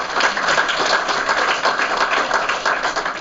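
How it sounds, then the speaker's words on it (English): A crowd at a book launch in Mauritius applauds with dense, continuous clapping that stays loud and even from start to finish. "a big round of applause to his parents"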